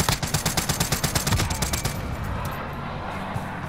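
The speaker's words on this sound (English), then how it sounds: "Oh shit, guys, they're shooting me" Rapid automatic gunfire rattles in a video game, a tight burst of evenly spaced, loud shots lasting about two seconds before trailing off into a fading rumble.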